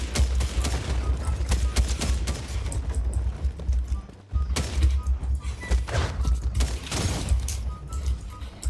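Rapid, dense gunfire in Fortnite, a steady stream of close, sharp shots with a brief pause midway before the firing resumes, backed by low rumbling game noise.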